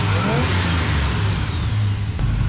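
Freshly overhauled 1976 GMC truck engine idling with a carburetor, a loud, steady low rumble close by with an even throb and no voices over it.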